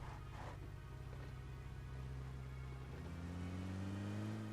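Car engine in the PUBG Mobile battle royale game, a steady mid-pitched hum. It rises in pitch toward the end as the vehicle accelerates, with no talking.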